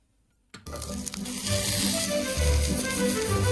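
Food sizzling and frying without oil on a portable burner stove outdoors, a sudden steady crackling hiss that starts loud and keeps up throughout, close up with no talking.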